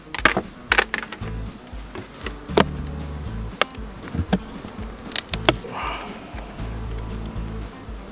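Saskatraz honey bee colony buzzing in an opened hive, a low steady hum with bees flying past close by, broken by sharp clicks and knocks of hive frames and tools.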